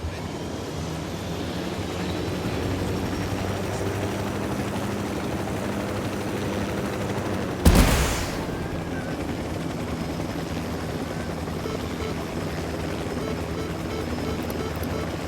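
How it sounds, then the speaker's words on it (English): Helicopter in the video game Ghost Recon Wildlands, a steady rotor and engine drone running continuously at moderate loudness, with one brief sharp burst midway. "Got a chopper."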